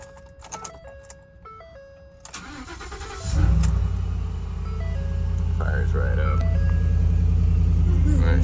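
A truck's engine cranks and catches, then settles into a loud, steady idling rumble that continues to the end, after a quiet stretch with a voice and small clicks.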